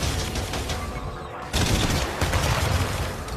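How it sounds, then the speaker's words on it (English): Repulsor blasts and homing missiles firing in the Iron Man VR video game, a loud, close barrage of rapid bursts that thins for a moment, then hits harder and keeps going under light game noise. "Effortlessly change from shooting your repulsors to your auxiliary weapons, like homing missiles, with a flick of the wrist."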